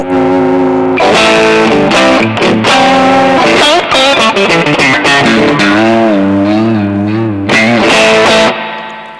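Loud, heavily distorted electric guitar with the volume pedal pressed fully up, playing a sustained solo line with bends and held notes, full volume throughout, then cutting off near the end.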